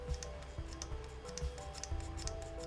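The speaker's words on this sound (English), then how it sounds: "when I press the release cable, sure enough, I can hear that button clicking" Quick, light mechanical clicks from the release-cable button on a laser pen remote trigger, pressed repeatedly in an uneven rhythm over a steady low background hum.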